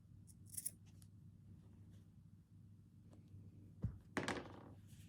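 Scissors cut fabric in short, quiet snips close by, with a couple of brief early clicks and a louder crisp cut near the end against a soft background hum.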